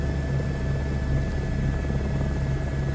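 Helicopter flying over Paris in Microsoft Flight Simulator 2024, a constant engine and rotor hum with a faint rhythmic low beat, unbroken, steady and close.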